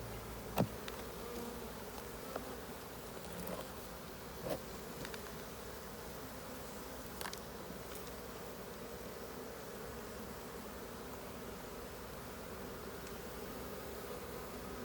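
A steady, soft hum of honeybees on hive frames in February fills the whole stretch, with a few faint clicks and knocks on top and no talking.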